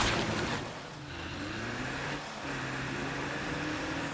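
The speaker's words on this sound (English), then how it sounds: "Hear the car? It's pretty beaten up." A beaten-up car in a video game, its engine droning steadily with a low tonal hum and a rougher rush of noise at the start.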